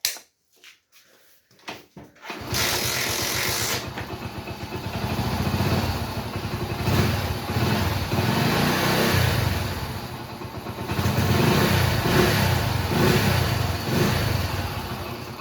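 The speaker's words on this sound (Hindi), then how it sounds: "बाइक को स्टार्ट करके भी आपको दिखाऊंगा" A motorcycle fitted with a new regulator is started after a few clicks and quiet handling noises, then idles and revs repeatedly, loud and close, in rising and falling surges.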